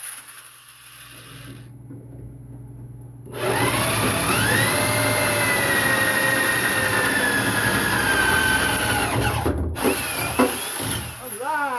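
A power drill runs during work on a 1933 Plymouth coupe rat rod build, whirring loudly and steadily for several seconds with a brief interruption near the end, after quieter shop noise and a short pause.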